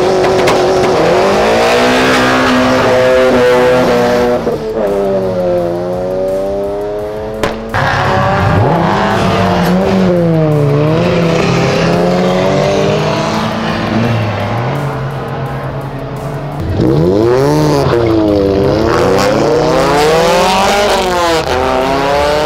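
A Honda Civic Type R accelerates flat out and spins, the engine screaming loud and close through repeated rising gear sweeps, with a brief drop in the middle and a final hard rev near the end.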